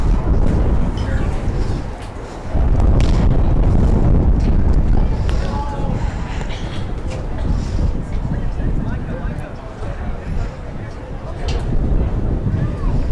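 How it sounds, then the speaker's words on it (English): Steady gusty wind buffets the microphone throughout on a hot 95-degree day at a boys' high school soccer game, with voices talking faintly underneath. "Pretty windy."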